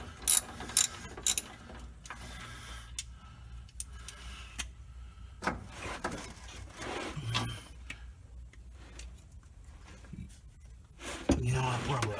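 A ratchet wrench removing bolts from the clutch of a 1997 Dodge Cummins pickup makes faint, scattered metallic clicks and clanks over a low background hum, with a few sharper ticks near the start and a louder scrape at the end.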